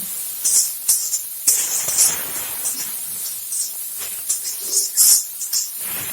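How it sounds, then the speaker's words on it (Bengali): Onion and green chili frying in a pan give off a steady sizzling hiss that swells and fades in uneven bursts, close and fairly loud, with no talking over it. "তো এখন আমি পেঁয়াজ আর কাঁচা লঙ্কা দিয়ে দিব একটু ভেজে নেব"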